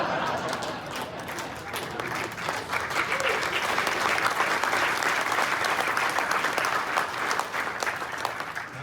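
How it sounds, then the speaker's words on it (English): Sustained, vigorous applause from a large audience at a Lake Oswego Chamber of Commerce community awards event, dense and loud throughout nearly nine seconds, swelling slightly in the middle before easing. "That's the best hand clapping I've had in a long time."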